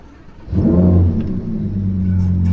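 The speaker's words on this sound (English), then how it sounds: "Oh my gosh, I absolutely love the exhaust from VF Engineering." Lamborghini fitted with a brand-new VF Engineering exhaust and new software revs hard, a sudden loud roar rising out of a low idle and then settling into a steady, deep, throbbing drone close by.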